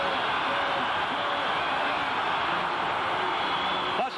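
A packed stadium crowd at the 1994 AFC Championship football game between the Chargers and Steelers roars in a loud, unbroken wall of noise, with a commentator's voice carried over it.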